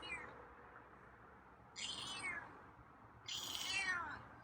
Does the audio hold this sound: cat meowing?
yes